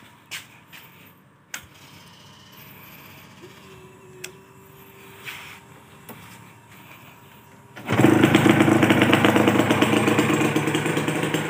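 A Yamaha TZM motorcycle engine starts on the first try after a quiet stretch of small clicks and clunks, then runs loud and close with a rough, raspy idle for several seconds.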